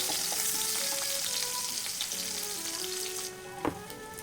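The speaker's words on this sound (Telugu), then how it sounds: "సో ఆనియన్స్ వేస్తున్నాను ఫ్రై అవ్వడానికి." Sliced onions fry in a pan with a loud, steady sizzle and crackle close by, a few soft clinks of a utensil near the end and no talking.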